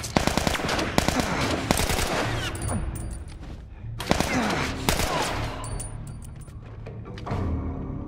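Rapid automatic gunfire and single shots from The Last of Us gameplay, loud sustained bursts with short pauses, close and dense throughout.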